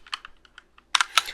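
Keys clatter on a computer keyboard in a quick burst of typing, light taps followed by a few louder, sharper strokes close by.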